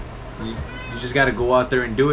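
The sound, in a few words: pet cat Cheeto meowing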